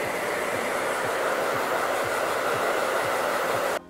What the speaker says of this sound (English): I'm going to blow dry the hair working around the head shape and just create a super nice, beautiful, sleek finish.